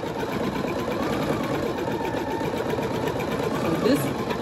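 An embroidery machine stitches a snap-tab design in the hoop, a steady fast mechanical whir running close and continuous throughout, with a voice talking over it.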